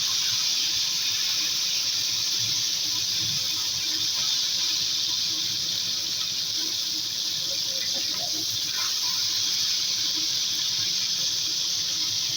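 Vetki fish fries in a pan, giving a continuous hissing sizzle at an even level from start to finish, with faint kitchen clatter underneath.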